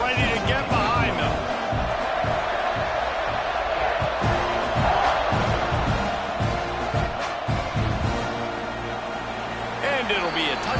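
Steady roar of a football stadium crowd waiting for kickoff, a dense, loud wash of voices and cheering that stays level throughout, with a commentator talking over it.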